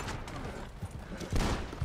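A burst of rapid gunfire from a Wild West shootout in the video game Red Dead Redemption Online, loud, dense cracks running through the whole moment with no talk.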